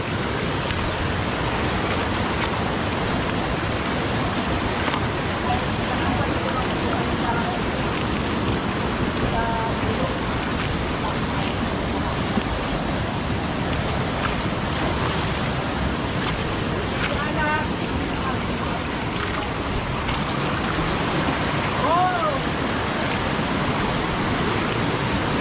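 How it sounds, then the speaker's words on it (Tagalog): A river in the Philippines flows steadily, its rushing water forming a dense, unbroken wash of noise that holds the same level for the whole stretch, with no pauses. "Itong ilog na to, wala tong ano, tuloy-tuloy to, hindi siya humihinto."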